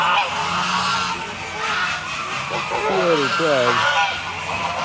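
Emden geese honking repeatedly in a loud, close flock, harsh overlapping calls rising and falling against a busy outdoor background.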